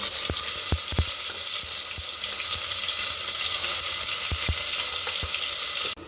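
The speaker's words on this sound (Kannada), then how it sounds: "ಎಲ್ಲ ರುಬ್ಬಿರೋದು ಹಾಕಿದ್ದಾನೆ. ಸ್ವಲ್ಪ ಹಸಿ ಸ್ಮೆಲ್ ಹೋಗೋವರೆಗೂ ಫ್ರೈ ಮಾಡಬೇಕು." Ground spice paste frying in a hot pan gives a continuous loud hiss and sizzle, with sharp clicks and taps of a stirring spoon throughout and no one talking.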